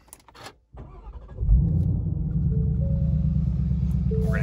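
A 2021 Ford Mustang Mach 1 V8 cranks after a quiet pause and catches into a loud, steady rumbling idle that holds close and alone, with a faint whine rising over the low burble.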